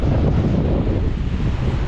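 Strong gusting wind from Typhoon Uwan roars and buffets the microphone in a continuous low rumble, loud and turbulent throughout.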